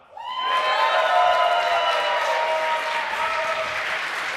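A crowd at a live Age of Empires 2 esports event applauds and cheers, a loud, dense wash of clapping and shouts that rises quickly and carries on steadily.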